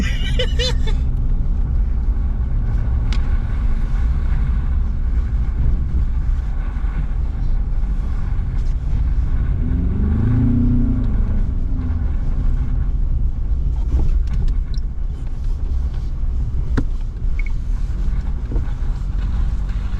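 A Ford Ranger Wildtrak pickup drives through a snowy forest, giving a steady, loud, low engine rumble mixed with wind-like noise that runs the whole time without a break.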